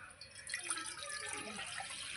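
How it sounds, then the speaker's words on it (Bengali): Water pours into a metal cooking bowl for boiling potatoes, a steady, faint splashing trickle in a quiet kitchen. "গামলায় জল দিয়ে দেব।"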